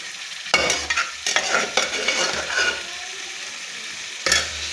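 Cooked dates and onions being stirred into a hot pan for a sweet date pickle, with close scraping strokes and a steady sizzle of frying underneath, bursts of stirring coming in uneven pulses.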